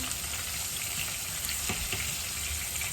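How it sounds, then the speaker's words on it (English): Steady sizzling of chicken frying in a hot pan, a continuous crackling hiss with occasional louder pops, no talking. "Seems to be frying up very nicely."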